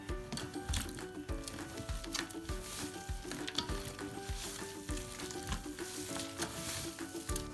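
Bulgur köfte mixture sizzles and frying noise rises as water is added bit by bit, with stirring and a steady crackle under a continuous tonal background, close and moderately loud.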